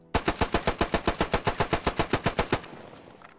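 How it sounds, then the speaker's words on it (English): Madsen M1902 machine gun firing in the World War video game Squad 44, a rapid, steady burst of about twenty loud shots over two and a half seconds, ending with a short echoing tail. "We have the Madsen M1902 machine gun"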